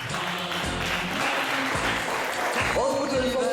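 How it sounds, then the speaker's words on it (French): Audience applause for a magician's trick at a stage magic show with a dancer assistant, a steady wash of clapping mixed with voices and music-like tones throughout. "Et je pense qu'on peut l'applaudir bien fort."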